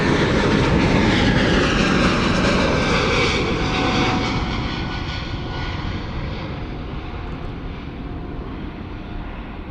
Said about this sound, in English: We have the Inspiration of Japan, All Nippon 787 heading to runway 26.